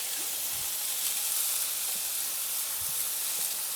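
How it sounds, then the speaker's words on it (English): Garlic, wine and butter frying in a pan make a steady, dense sizzle with a constant hiss, close and even throughout, alone without speech. "And we'll let this all fry for a little bit."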